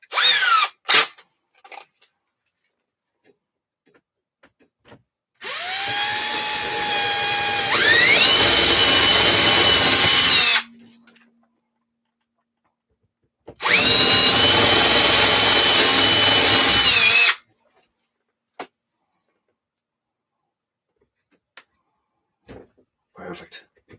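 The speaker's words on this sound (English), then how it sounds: "It's literally just drilling holes." Power drill boring holes in two long bursts of several seconds each, motor whine climbing in pitch as it spins up, loud and close, with scattered small clicks and handling noises in the quiet gaps.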